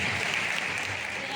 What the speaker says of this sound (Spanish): Un aplauso al deporte y sobre todo a la amistad y el saber de esta profesión.